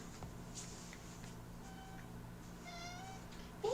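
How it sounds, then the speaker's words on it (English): A pet cat meows several times in short, chatty calls, fairly faint against a quiet indoor hum, with a sudden louder clatter at the very end. "Can you hear his meows?"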